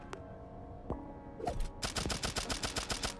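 SMG in Turnip Boy Robs A Bank: a couple of isolated shots, then a rapid, steady burst of sharp cracks firing in quick succession, loud and close, with no talking.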